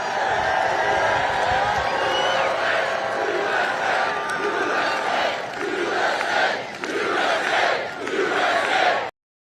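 A large crowd at a Trump campaign rally in Freeland, Michigan roars and cheers continuously, a dense wash of shouting voices and whoops that swells and dips rhythmically, as if chanting, before stopping abruptly.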